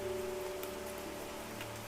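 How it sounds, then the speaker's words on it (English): Soft, steady rain patters against a window, a faint and even wash of drops with no other sounds. "The rain taps softly on the window, steady and soothing."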